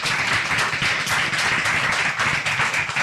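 Sustained audience applause at a medical conference, dense and steady clapping filling the room at an even level throughout, with no voices rising above it.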